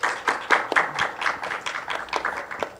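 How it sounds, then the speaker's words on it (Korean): A small forum audience at an art museum claps to welcome a guest panelist, distinct separate hand claps in a loose, uneven patter, fairly close and moderate in volume. "박수 부탁드릴게요"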